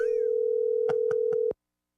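A phone call tone plays while ringing Tony: one steady, unbroken tone with a few soft clicks near the end, then it cuts off abruptly into silence.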